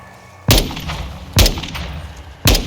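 Sniper rifle fire in a Modern Warfare 2 campaign firefight, three sharp, loud cracks spaced roughly a second apart, each with a short ringing decay over low background noise.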